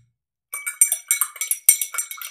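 A spoon clinks repeatedly against a container while stirring Washmate detergent mixed with water, a quick run of bright, close metallic taps in an uneven rhythm after a brief silence.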